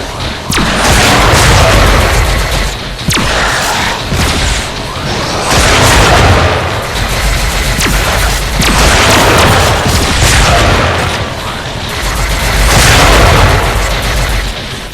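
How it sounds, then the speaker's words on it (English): Grenade explosions in a Star Trek video game ambush, a rapid string of loud booms and bursts that rolls on continuously, dense and close with no talk. "Captain, grenade!"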